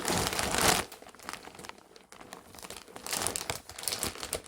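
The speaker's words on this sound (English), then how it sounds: "So I'm going to open this parcel up and see what's in here." A parcel of knitting wool is opened, and its plastic wrapping crinkles and crackles close by. A loud burst comes first, followed by quieter rustling and then more handling, with no voices.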